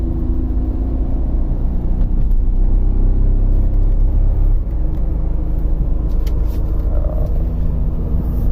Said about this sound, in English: I don't know if you can hear it right now, but it's just misfire.